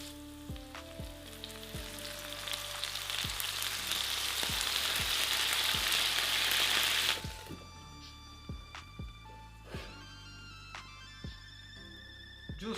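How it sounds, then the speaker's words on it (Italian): Mushrooms sauté in a pan, a loud, steady sizzle for about seven seconds that then drops away to quieter crackles and intermittent clicks of a utensil. "e faccio soffriggere un pochino"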